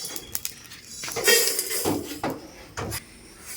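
Fried whole spices are tipped from a pan onto a metal plate for chicken biryani, giving a short run of scraping, rattling clinks and a few metallic knocks at close range, with no talking.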